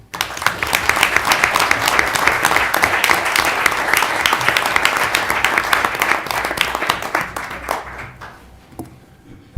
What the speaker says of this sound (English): A huge round of applause for those who served on the Shelter Committee.